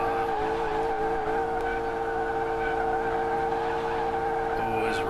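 BMW car engine held at redline in the Car Mechanic Simulator 2018 video game, a steady sustained high-revving drone with a constant pitch and a faint skid-like squeal over it, loud and continuous throughout.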